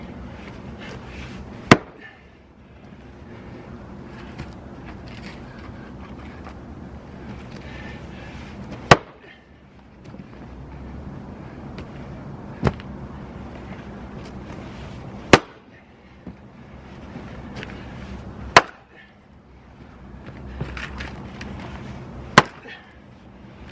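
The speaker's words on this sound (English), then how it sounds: "let's do same thing, but with the regular split and maul 8-pounder one" An 8-pound splitting maul strikes firewood in sharp, loud single blows spaced several seconds apart, about seven hits in all, with quieter rustling and handling noise between strikes.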